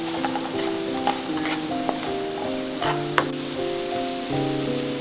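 Fish curry base of onion frying in a pan with turmeric and salt, a close, steady sizzle with scattered clicks and scrapes from stirring, no voices.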